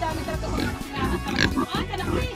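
Grunts from a big sow on a rural farm in Polillo, Quezon, rough low snorts coming in several bursts close by, mixed with people talking and greeting the animal throughout.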